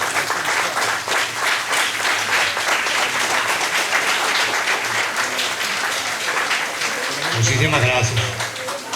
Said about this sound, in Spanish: pido por favor que le demos un aplauso a Marinés